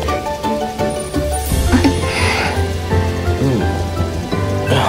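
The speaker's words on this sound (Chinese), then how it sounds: "下雨了" Rain falls in a dramatized scene of an animated series, a dense steady patter under a soundtrack with tonal music and scattered effects, loud and continuous throughout.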